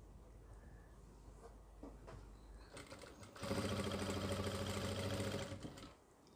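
A sewing machine stitching lace into a front neck design runs in a steady fast whirring rattle for about two and a half seconds, after quieter handling sounds.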